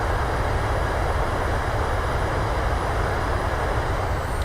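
Steady, loud broadband roar of Boeing 737-800 thrust reversers during the landing roll in a flight simulator, constant and unbroken, with no voices.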